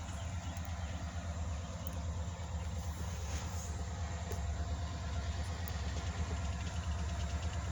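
Kiamichi Railroad SD diesel locomotives approach with a steady low engine rumble that holds throughout, a continuous heavy drone with no talk.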